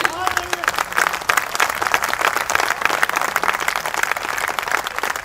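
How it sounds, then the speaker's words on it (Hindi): An audience at a Hindi poetry recital applauds steadily throughout, a dense crowd clapping under a speaking voice near the start. "तालियां बड़ी करिए।"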